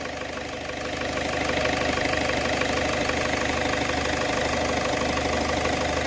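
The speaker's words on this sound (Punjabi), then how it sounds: "ਇੰਜਨ ਦਾ ਸਾਊਂਡ ਜਿਹੜਾ ਬਿਲਕੁਲ ਓਕੇ ਆ" A Ford Figo engine, one with reported knocking and an oil leak, idles steadily up close. It gives a constant mechanical hum with a fine, even ticking rhythm and no voices.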